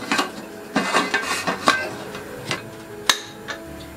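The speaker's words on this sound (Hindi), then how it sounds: "कुकर का लिड बंद कर देते हैं" A series of metallic clanks and knocks as a pressure cooker lid is handled and fitted, several sharp clatters spaced irregularly, with one louder clack near the end.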